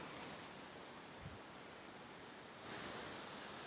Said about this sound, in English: Apart from like the loud river, waterfalling, whatever you want to call it